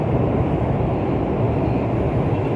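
A new Chinese-built electric commuter train runs on the line, a steady loud rumbling roar of wheels and motors heard from inside a carriage, unbroken throughout.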